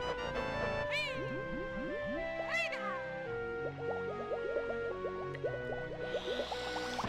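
Repeated cartoonish cat meows from the video game Banjo-Tooie, several rising and falling cries close and loud over a busy game soundtrack, with a voice also imitating the meow.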